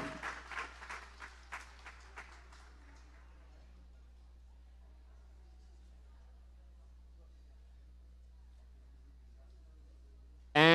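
At a leadership gala in Washington DC, an audience honouring a congresswoman breaks into a burst of applause. The clapping thins and fades over a few seconds into near quiet, and a sharp loud sound cuts in at the very end.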